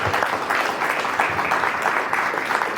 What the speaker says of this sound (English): Let's give a round of applause for our panelists today.